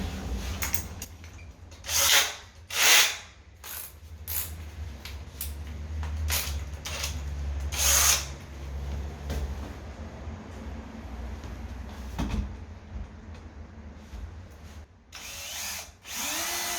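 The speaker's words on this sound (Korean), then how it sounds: "네, 5mm짜리로 뚫어보도록 하겠습니다." A power drill bores a 5 mm hole for a cable while fitting lighting in a delivery truck cargo box, grinding and rubbing steadily at close range with a few louder bursts and no talk.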